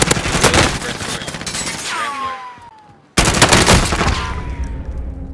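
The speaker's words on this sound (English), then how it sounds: "I'm taking fire!" Gunfire in the video game Call of Duty, dense bursts of shots running loud and continuous, fading briefly before another heavy barrage starts.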